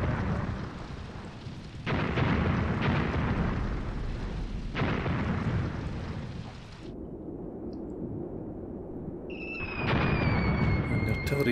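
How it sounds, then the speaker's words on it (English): Mortar and artillery barrage in the wargame Graviteam Tactics: Mius Front, a run of heavy rumbling blasts landing one after another at middle distance, settling into a lower roar before a final loud burst with a whistling tone. "And the artillery is now falling"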